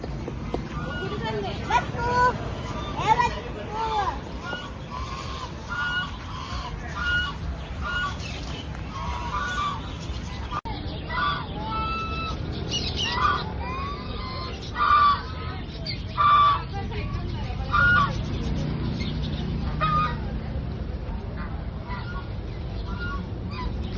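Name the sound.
ducks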